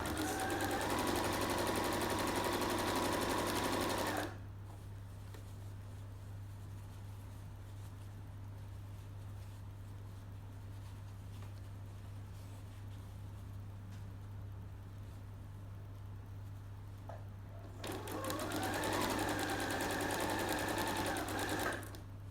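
A sewing machine runs steadily while stitching a fabric seam, a loud continuous whirring at the start, then a quiet pause, then another even run near the end, with no talking.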